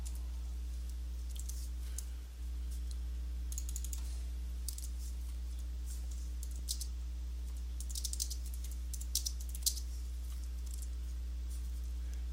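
Quiet clicking of keys on a computer keyboard in short scattered bursts of typing, with pauses between, over a steady low electrical hum in a room.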